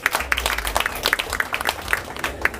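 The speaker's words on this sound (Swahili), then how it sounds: "jipigeni makofi kwa kukuwa hapa" An outdoor crowd at a tourism awards ceremony by a lake claps for a couple of seconds, a loose patter of individual hand claps at moderate volume.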